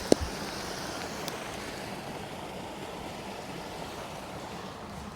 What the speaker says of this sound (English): They've got a little waterfall.